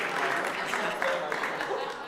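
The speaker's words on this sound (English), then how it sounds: "a big round of applause for Lindy for doing everything." Round of applause at a Narcotics Anonymous meeting in Parrot Cove, steady dense clapping from a small crowd, lasting about two seconds at moderate level, with faint voices mixed in.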